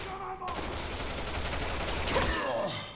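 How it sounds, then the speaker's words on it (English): Gunfire in Resident Evil 6 rattles as a dense, continuous fusillade of rapid shots through the whole stretch, moderately loud, with game effects layered in toward the end. "What is he shooting at?"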